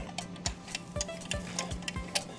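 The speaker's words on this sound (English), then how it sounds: "I think the clock's running at the moment. You can hear it." A Westclox Lark alarm clock ticks quietly and evenly, about two ticks per second, close by in an otherwise quiet room.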